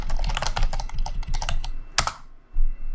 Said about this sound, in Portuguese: então eu vou vir aqui e vou digitar um texto